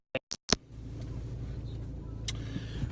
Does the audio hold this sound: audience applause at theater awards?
no